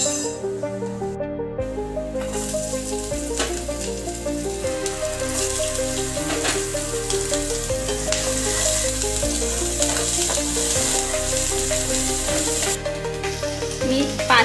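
Five or six garlic cloves and two chillies sizzle in about two spoons of hot oil, a broad continuous hiss heard beneath loud, steady background music.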